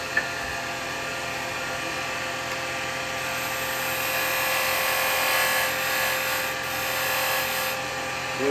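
Wood lathe spinning while a carbide chisel cuts a dovetail into a goblet blank, a steady high-pitched whirring hum with a faint scraping edge, continuous and close, no talk.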